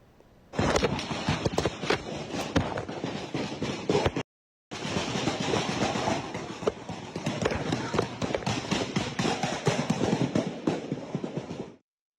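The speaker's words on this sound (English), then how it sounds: "You can hear their footsteps as they try to find cover." Footsteps of people running for cover after gunfire breaks out at a Memphis block party: a rapid, uneven patter of sharp impacts, loud and close, mixed with voices and broken by a brief silent gap.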